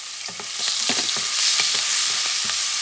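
Onions fry in olive oil just above medium heat, a loud, close crackling sizzle with repeated spoon-scraping stirs scattered through it, no talking.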